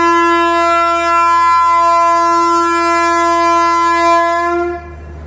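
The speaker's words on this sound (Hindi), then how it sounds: "एक ट्रेन ने होंक दिया है" A train horn sounds at a railway station on the Chandigarh–Ajmer line: one long, loud, steady multi-tone blast held for about five seconds before cutting off.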